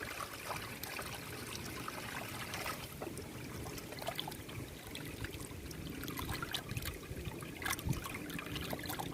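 Water trickles and splashes steadily, with small clinks and rinsing noises throughout, as raw prawns are washed under a running stream.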